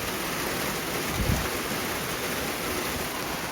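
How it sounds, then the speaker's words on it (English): Rain falls steadily in a garden, a dense even hiss of drops with a soft thud just past one second, heard up close and alone. "I'll try and do a walk past in a bit when the rain calms down a bit."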